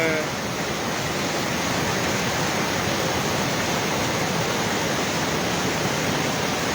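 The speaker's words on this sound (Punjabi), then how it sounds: "ਤੁਸੀਂ ਦੇਖ ਸਕਦੇ ਹੋ ਬਹੁਤ ਹੀ ਮੁਸ਼ਕਲ ਪਾਣੀ ਦਾ ਵਹਾਅ" A swollen mountain stream after heavy monsoon rain near Sri Naina Devi in the hills. Its broadband roar of rushing water stays loud and steady throughout, with no voices heard.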